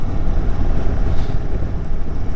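Indian Super Chief motorcycle engine rumbling steadily while riding, a low continuous drone mixed with wind rush, loud and close throughout with no pauses.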